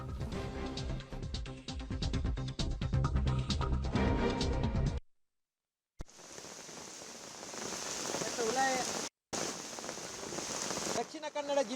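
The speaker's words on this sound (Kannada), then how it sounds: "ದಕ್ಷಿಣ ಕನ್ನಡ ಜಿಲ್ಲಾದ್ಯಂತ ಭಾರೀ ಮಳೆ ಸುರಿತಾ ಇದೆ" Heavy monsoon rain pours down steadily over flooded surroundings in Mangaluru. A dense patter is heard up close, with a person talking over it, after an opening stretch of unrelated music.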